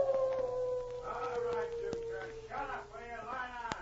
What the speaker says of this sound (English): The wolf dog howled again.